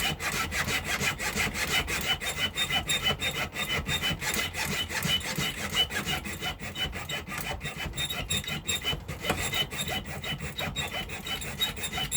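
Handsaw cutting tightly clamped wood for a 1958 Flying V guitar build, a fast, steady back-and-forth rasping stroke rhythm, close and continuous without pause.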